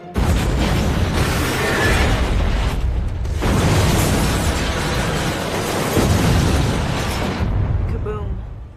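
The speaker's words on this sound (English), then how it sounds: "Kaboom." A huge, roaring explosion in an action crime film, loud and sustained for several seconds with a deep rumbling wash, briefly dipping before surging again and tailing off.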